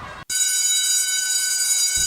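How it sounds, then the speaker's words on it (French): A school's noon bell rings with a loud, steady electric ring that carries on without a break after a brief cut, with no voices over it. "La cloche de midi sonne."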